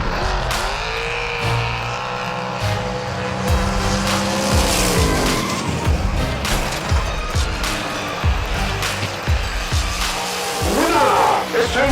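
Hot Wheels diecast cars, a Mod Rod among them, race down a track in a tournament heat. Sharp clacks, rolling rumble and repeated impacts build toward a hard finish, with a voice faintly underneath.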